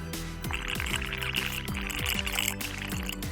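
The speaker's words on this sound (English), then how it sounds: "I'm going to blow some of my air into here" Air blown through a straw bubbles into lime water, giving a steady, close stream of gurgling bubble pops with repeated rising watery blips that keep going without a break.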